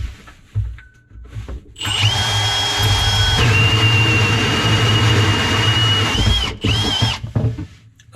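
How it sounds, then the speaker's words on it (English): A loud power drill whines steadily for several seconds as it bores into wood, its pitch dropping partway through before spinning down, with a short second burst after. "Unfortunately, my drill is too sharp."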